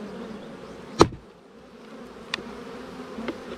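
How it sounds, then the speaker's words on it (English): Bees hum in a low, steady drone close by around a hive as a bee escape is used, broken by a sharp knock and a few fainter taps. "Trying to get all the bees off of it."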